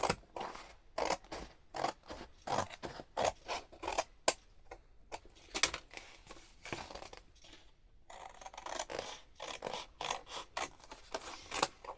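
Scissors snip pieces off bits of paper junk being turned into ephemera: a rapid series of crisp, close cuts in uneven bursts, with no voices.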